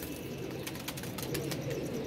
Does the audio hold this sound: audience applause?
no